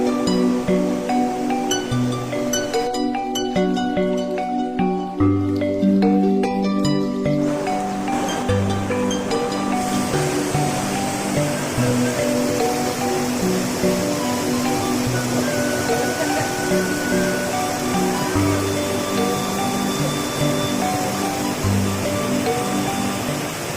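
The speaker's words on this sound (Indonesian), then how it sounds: "air terjun." The Curug Putri Kencana waterfall in Bogor roars as a steady, loud rush of water throughout, with voices and other tonal sounds layered over it.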